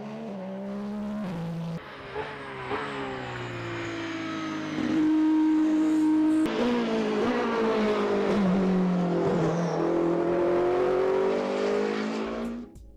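WEC Hypercar-class race cars roar past one after another, engines rising and falling in pitch as they accelerate and shift gears, loud and close, with no talk.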